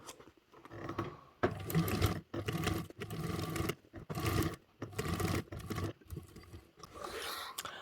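A sewing machine top stitches a bag in bursts of fast, rattling needle strokes, each run lasting one to two seconds and separated by short pauses, close and fairly quiet.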